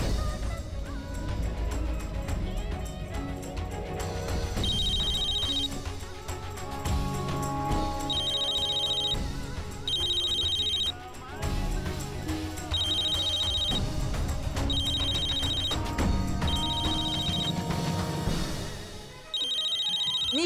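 A telephone rings with repeated bursts of a bright electronic ringtone in regular on-off pulses, loud and close over a continuous background score in a dramatic TV series scene, with no talking.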